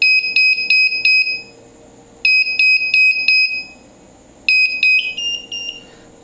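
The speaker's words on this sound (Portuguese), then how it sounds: "Assim que der 2 e 8, ele vai tocar o buzzer." A homemade mains-synchronized digital clock sounds its alarm buzzer in rapid bursts of four high-pitched beeps, repeated three times with short pauses, the last burst fading and muffled as a finger covers the buzzer.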